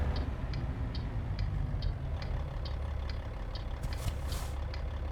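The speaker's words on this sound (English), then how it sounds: "Slow down pretty quickly via my engine brake" In American Truck Simulator, a truck's engine brake gives a steady low rumble that continues throughout, joined by a regular faint ticking and a brief hiss of air near the end.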